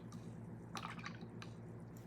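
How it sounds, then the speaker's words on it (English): A paintbrush swished and rinsed in a cup of water between paint colors while painting an owl bank, making faint, brief watery swishes and drips in a quiet room. "swish your brush in the water and dry it"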